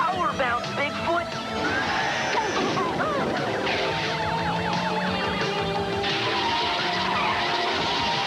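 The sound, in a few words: cartoon car skidding on an oil slick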